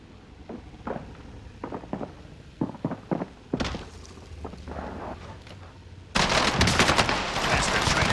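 Bursts of gunfire crack out in Call of Duty Warzone, sharp shots scattered irregularly, then a dense louder volley near the end, over a low background hum.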